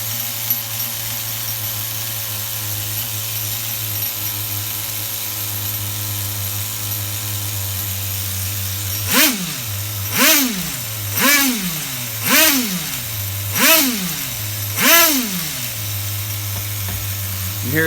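An HPI RS4 Nitro F150 RC car's small nitro engine idles with a steady buzzing drone, then revs in six sharp, rising-and-falling blips about a second apart, loud and close on a bench.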